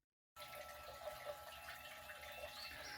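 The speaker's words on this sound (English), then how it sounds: "if you wonder what the water running is" Steady water runs from a tap at a home porch, a constant close hiss that starts abruptly after a brief silence and continues alone without speech.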